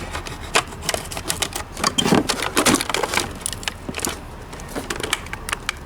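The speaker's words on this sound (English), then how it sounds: "Just run a knife over it, a toothed knife really gently, and it will separate from this plastic." A serrated knife saws through plastic toy packaging, giving close, irregular clicks and crackling snaps in quick bursts, with no speech.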